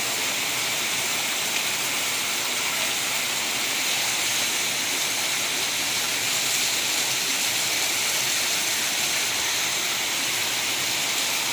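Heavy downpour during a storm, steady and dense with a constant loud hiss of falling rain and running water, unbroken throughout with no voices.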